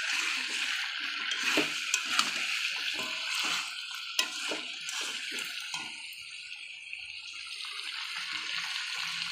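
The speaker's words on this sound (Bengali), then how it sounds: "এবার আমি জল দিয়ে দেবো।" Water is poured into a pot of chicken curry with potatoes, making a continuous close splashing and gurgling stream with small clinks of the pot and utensil, steady for about nine seconds, with no talking.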